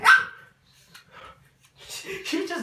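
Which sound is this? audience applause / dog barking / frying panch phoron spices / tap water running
dog barking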